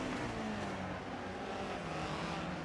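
Race cars, Subaru BRZ and Honda S2000, circulate at Brands Hatch, a steady engine drone with a sliding pitch under continuous track noise, fairly distant and even throughout.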